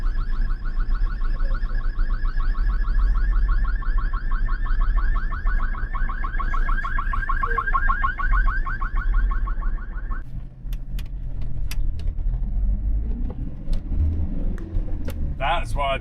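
A Toyota truck ambulance siren wails in a rapid, steady warbling pattern for about ten seconds before cutting off, leaving road rumble and brief horn-like chirps in heavy street traffic.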